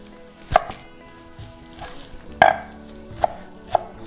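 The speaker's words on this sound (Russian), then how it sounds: "нарезаем один лучок и зелень" A knife chops onion and fresh coriander, parsley and dill on a cutting board in a few sharp, separate strikes, close and clear, with quiet pauses between them and no talking.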